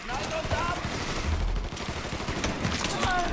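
Gunfire in the Mafia 3 video game: a dense, loud burst of repeated shots and impacts runs through the whole stretch, with scattered game sounds behind it and no talk.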